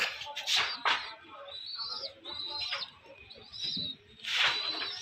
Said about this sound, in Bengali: তো বন্ধুরা এই হচ্ছে নর পায়রাটা